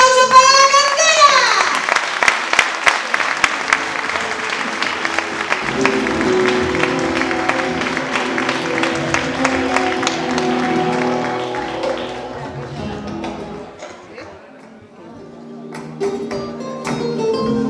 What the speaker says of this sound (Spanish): ¡Un fuerte aplauso para La Cantera!